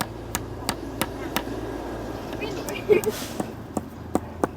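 Fence stakes are hammered into the ground of a vegetable garden, a series of sharp, evenly spaced knocks ringing out at a moderate distance over background murmur and a brief voice.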